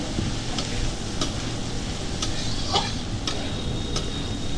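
Homemade mixed fried rice with boiled chicken is stirred in a hot pan, a steady sizzle running throughout with regular scraping ticks of the spatula roughly every half second.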